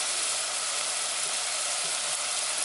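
Chopped garlic sizzles in a hot pan for a potatoes au gratin side dish, a steady, even frying hiss with no talking.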